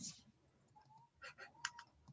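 A computer mouse clicking while drawing points in mapping software, a few quiet, sharp clicks in a short uneven cluster against faint room noise.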